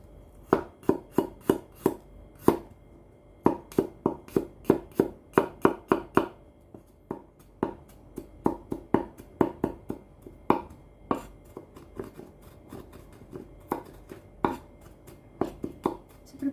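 Garlic chopped with a knife on a small cutting board while making spicy salt-and-pepper tofu: a close, steady series of sharp chopping knocks in quick bursts, with brief pauses between runs.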